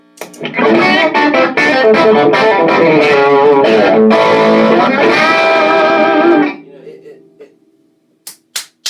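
Electric guitar played through a Paisley Drive overdrive pedal set near distortion, a loud chordal riff ringing for about six seconds before cutting off, followed by faint hum and a few sharp clicks.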